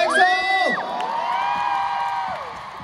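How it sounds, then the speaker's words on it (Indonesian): A crowd of fans at an EXO meet-and-greet in Jakarta cheers and whoops, shrill shouts rising over steady applause throughout. "Kita berikan tepuk tangan buat EXO."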